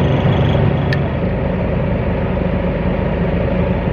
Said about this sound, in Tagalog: Ayan, tumaas na revolution ng makina.